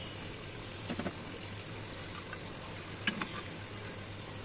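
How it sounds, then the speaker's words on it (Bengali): Donut dough frying in hot oil, a steady soft sizzle and bubbling throughout with a few faint clinks of a utensil, fairly quiet and without talk. "তো আমি এখন ডোনাটের মতো কয়েকটা ভাজি করব"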